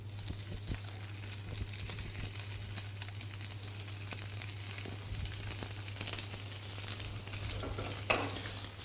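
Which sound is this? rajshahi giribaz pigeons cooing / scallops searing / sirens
scallops searing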